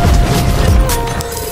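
A loud, close shotgun blast in Fortnite gameplay, one booming hit with a rumbling low tail that fades out over about a second.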